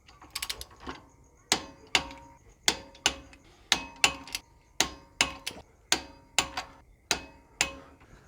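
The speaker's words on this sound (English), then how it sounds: "with the 12mm socket on the torque wrench, we're going to do these up to 25 foot-pounds" A torque wrench with a 12mm socket clicks in sharp, evenly spaced ratchet strokes while tightening bolts on a Toyota Landcruiser during rear wheel bearing work, close and clear with no talk.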